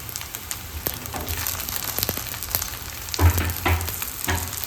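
Leftover idli pieces fry with spices in a pan, giving a steady close sizzle with scattered crackles and a couple of louder stirring clatters near the end; no one speaks.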